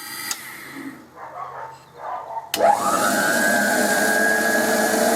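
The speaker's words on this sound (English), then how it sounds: "And there goes the grinder." A grinder with no coolant in it, on a machine being worked on, spins up with a rising whine after a few soft clanks, then holds a loud, steady mechanical drone with no talking.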